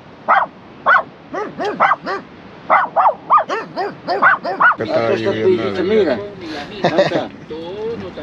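A dog barks repeatedly in short, sharp bursts, close by, followed by a whining yelp; a person speaks over part of it.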